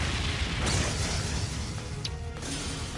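The Brionac weapon firing in the role-playing game Trails of Cold Steel 3, a loud sustained booming blast with a rushing, crackling tail and a brief sharp burst midway, no voices.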